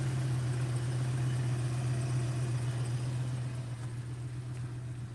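A car engine idles steadily with a low, even rumble and a constant hum, uninterrupted and close by for the whole stretch.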